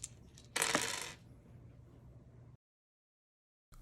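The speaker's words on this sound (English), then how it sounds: "So let each player roll the dice." Dice rolled for the ancient Royal Game of Ur, a short clatter and rattle of a throw that settles and fades, followed by near silence.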